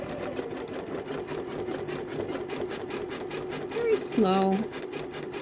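A Janome Memory Craft 10001 embroidery machine stitching a scarecrow design with a steady, rapid rhythmic clatter, while a voice speaks briefly over it near the end.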